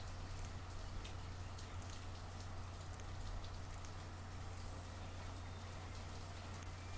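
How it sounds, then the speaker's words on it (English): Steady rain falls in a survival video game, a dense even patter with a low rumble beneath, continuous for the whole stretch with no talking. "It's raining"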